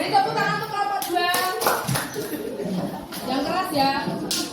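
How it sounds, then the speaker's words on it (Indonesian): Students in a classroom clap for a group during an anti-bullying guidance lesson, scattered hand claps under steady chatter and a voice, with some light laughter mixed in. "Beri tepuk tangan untuk kelompok 2."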